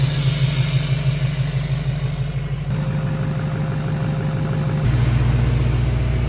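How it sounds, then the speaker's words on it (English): A loud LML Duramax diesel truck engine runs with no exhaust fitted, a harsh, unmuffled rattle and steady low throbbing, shifting pitch slightly as it idles close by. "She's running pretty loud without an exhaust on there."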